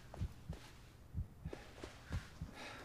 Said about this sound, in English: Don't like the fact that I can hear a heartbeat